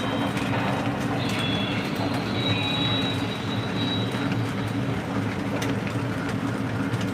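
Small O gauge model train stock cars rumble steadily along a track, with faint metallic squeals from the wheels over a continuous rolling clatter.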